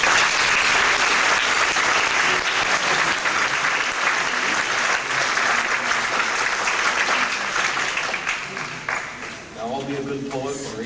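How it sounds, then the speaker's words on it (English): An audience at a university convocation applauds, a dense sustained clapping that stays loud throughout before thinning near the end as a speaker begins talking. "we should give them a round of applause."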